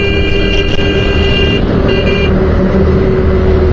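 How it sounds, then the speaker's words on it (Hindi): On a road ride from Dehradun to Ayodhya, a motorbike horn sounds in short repeated toots over loud, steady engine and road noise. "तो अब हॉर्न देना पड़ेगा।"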